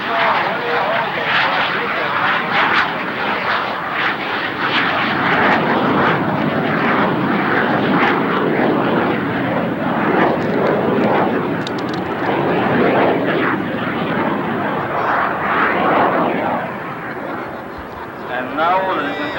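Italian Air Force Frecce Tricolori jets perform at an airshow, their engines producing a continuous loud, broad roar that swells and fades slightly, with a commentator talking over it.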